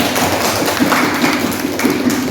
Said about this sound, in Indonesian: kita berikan tepuk tangan untuk semua kelompok